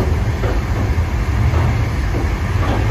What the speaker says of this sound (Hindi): वाओ कट मार रही है ट्रेन।